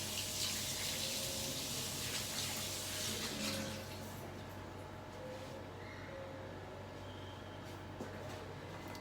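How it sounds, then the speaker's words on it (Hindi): A tap runs steadily for hand washing in a home kitchen, giving a close, continuous gush that is louder at first and then eases as the hands move under the stream, with no talking. "मैं हाथ थोड़ा धो लेती हूँ।"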